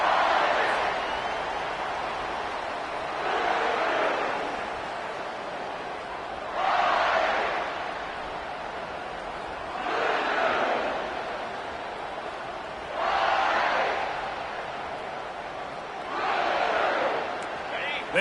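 Football crowd at a game swelling into repeated waves of cheering and roaring, rising and fading roughly every three seconds from a distance, under an announcer's commentary.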